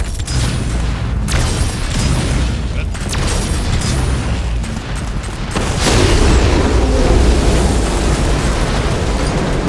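Explosions from homing missiles in the video game DOOM: The Dark Ages, a dense, continuous barrage of loud booms and blasts that swells louder in the second half, with a voice faintly present underneath.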